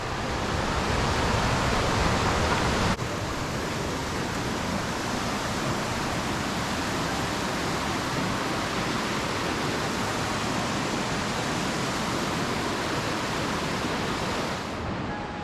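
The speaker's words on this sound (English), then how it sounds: "So we just passed the river crossing." A mountain creek rushes beneath a trail bridge along the route to Elfin Lakes, a loud, dense and steady roar of flowing water that fills the whole stretch, briefly louder at the start, with no talking.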